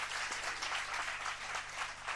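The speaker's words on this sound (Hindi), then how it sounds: "जरा तालियां बजा दीजिएगा" Audience applause at a live spiritual question-and-answer session with a Jain monk in Agra, a steady wash of many hands clapping throughout, moderately loud and even with no talk over it.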